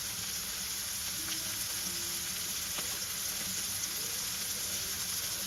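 Mutton kheema fried rice sizzles in a pan, a continuous close frying hiss with a few faint utensil ticks and no voices.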